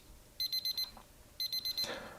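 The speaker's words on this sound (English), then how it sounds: "Now I'm going to play the timer out because I want you to hear the tone" A vintage digital melody watch sounds its timer alarm: two bursts of four quick, shrill electronic beeps in a row, loud and close with a pause between bursts and no talk over them.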